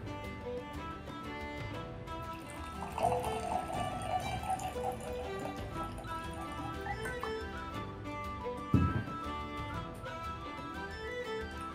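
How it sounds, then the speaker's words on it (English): Jameson Irish whiskey trickles into a glass in a steady, faint pour that lasts several seconds, with a small clink of glass partway through and no talking. "So let's pour some."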